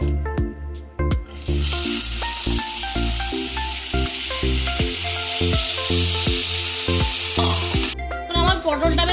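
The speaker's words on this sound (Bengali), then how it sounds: "এই দেখুন, আমি এই পটলটাকে আমি এর মধ্যে ছেড়ে দিচ্ছি।" Pieces of pointed gourd dropped into hot oil in a home kitchen burst into a loud, steady sizzle that holds for several seconds, with clinks of a spatula against the pan at the start and end.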